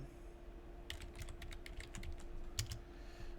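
Someone types on a computer keyboard in a quiet room, a quick, irregular burst of light key clicks close by over a faint steady hum.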